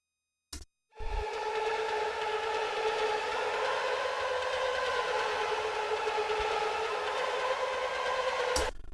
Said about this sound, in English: this sounds like this was the Arturia Micro Freak